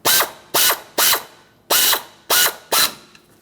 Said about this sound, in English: Now we need to lock it in by tightening this bolt clockwise.